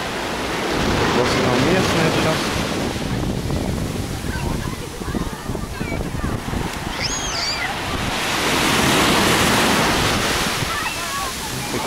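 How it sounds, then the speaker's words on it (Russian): Steady wash of surf with small waves breaking and hissing onto a beach in Alanya, wind rushing over the microphone, faint bird chirps briefly above. "бьет волночки"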